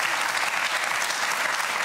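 A studio audience at a Hamburg talk show applauding, a dense, steady burst of many hands clapping at close range with no pauses.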